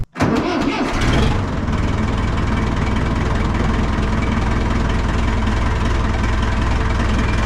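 A large tractor engine fires up with a sputter inside an old closed-in barn, then settles into a loud, steady, rumbling idle that continues evenly without a break.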